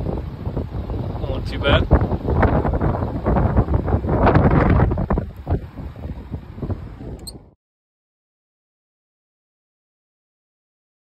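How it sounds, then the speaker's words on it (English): Strong wind roars outdoors where a field technician is replacing batteries in a panel, a loud steady buffeting for several seconds with a brief spoken remark, then cutting off to silence. "Windy as all get out."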